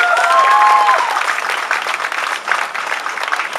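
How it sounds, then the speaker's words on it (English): Outdoor rally crowd at a Cincinnati medical marijuana and hemp event bursting into applause, a dense, steady wash of many hands clapping that stays loud and fairly even throughout, with a few whistles early on. "I think that deserves a little bit of applause."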